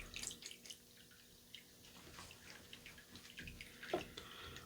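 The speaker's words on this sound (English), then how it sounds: "I'm actually going to rinse my hands off because I got that soap all over my hands" Soapy hands being rinsed under running water, a quiet, uneven splashing and trickling with small drips and brief gushes as the hands move through the stream.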